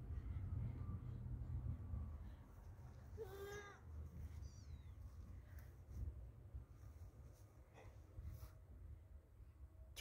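A cat meows outdoors around farm animals, with one clear harmonic meow near the middle over a steady low rumble of background noise, followed by a fainter short call.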